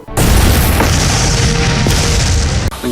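A film explosion sound effect hits as a loud, heavy boom, then sustains a dense rumbling roar with debris-like crackle for nearly three seconds before cutting off.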